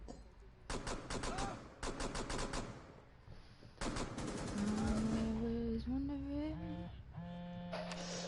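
Gunfire in Rainbow Six Siege: several sharp rapid-fire bursts of automatic weapon shots with pauses between them, followed by game tones and electronic effects, with a voice talking faintly underneath.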